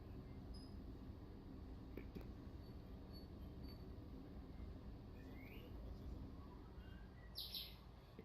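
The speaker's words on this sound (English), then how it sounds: "Freaking birds chirping over there." Birds chirp in the ambient soundscape of a German-themed map in an Onward VR shooter match, faint and scattered over a steady low rumble.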